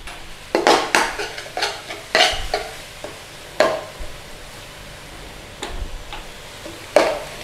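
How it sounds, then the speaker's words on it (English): Onions sauté in a pan for chicken rogan josh, a low frying hiss under several sharp clinks and scrapes of a utensil against the pan at irregular intervals, close and without speech. "We're just trying to saute this down a little bit, you know."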